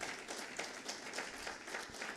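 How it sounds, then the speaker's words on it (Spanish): Church congregation applauding in praise, a dense, steady patter of many hands clapping through the whole stretch at a fairly quiet, distant level. "Den un aplauso de alabanza al Señor"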